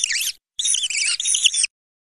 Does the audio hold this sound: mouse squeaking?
yes